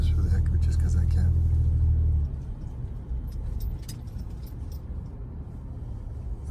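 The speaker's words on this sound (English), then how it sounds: "I'm going to take a ride down the street just for the heck of it" A car rolls down a residential street of closely spaced houses, its low engine rumble and road noise steady from inside the vehicle, easing slightly partway through, while someone talks over it.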